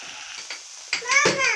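Sliced mushrooms sizzle in a frying pan as a utensil stirs them, with a few close scrapes and rising bursts of frying near the end; brief and fairly loud, with no speech.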